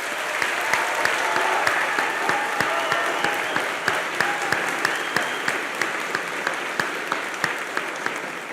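An audience at a middle school graduation claps for honor society members standing to be recognized, steady full-room applause with a few sharp individual claps cutting through the continuous patter.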